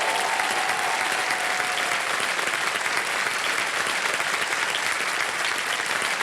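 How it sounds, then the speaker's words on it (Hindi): Studio audience applause for a quiz-show contestant on Kaun Banega Crorepati, a steady dense clapping that holds at full strength without a break for about six seconds. "तालियां बज जाए इनके लिए।"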